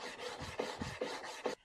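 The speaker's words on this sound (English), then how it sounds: "you're just gonna sand it until it fits" Sandpaper rubs back and forth on wood in several quick, rhythmic strokes, close and raspy.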